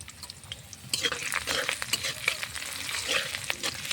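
Greens frying in mustard oil in a pan, a steady close sizzle with scraping stirs of a spatula breaking through now and then, no talk.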